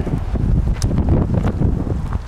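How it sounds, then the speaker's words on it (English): Steady wind buffeting the microphone outdoors at a lakeside beach campsite in Mann Gulch, a continuous low rumbling roar with gusty swells and faint rustling throughout. "Wind's picked up a little bit again."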